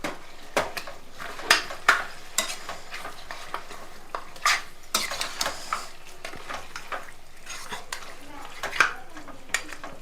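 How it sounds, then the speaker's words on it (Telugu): Mutton cooks in oil with turmeric, onion pieces and ginger-garlic paste in a home kitchen pan. A soft sizzle runs underneath while a spoon stirs and scrapes, giving sharp, irregular metallic clinks close by. "నేను ఇంకా ఇలా డైరెక్ట్గా మగ్గ పెట్టేస్తున్నాను నూనెలోనే"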